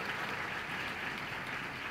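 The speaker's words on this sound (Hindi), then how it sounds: "जोरदार तालियों से उनका स्वागत करें हम सभी" A crowd claps in a steady, dense wash of applause for two seconds, welcoming a visiting delegation at a Republic Day celebration in Haridwar; no voices over it.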